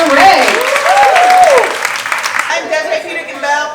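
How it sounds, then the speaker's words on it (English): An audience at a live event breaks into a loud round of applause, dense clapping that swells and then thins out, while a presenter's voice carries over it. "let's give a round of applause and bring up Desiree"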